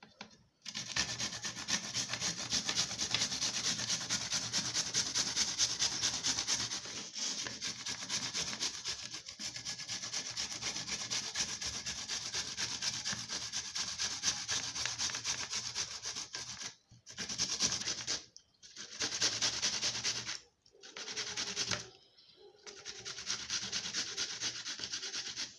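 Cucumber is rubbed over a grater in fast, steady rasping strokes, close and continuous, with a few short pauses near the end and no talk.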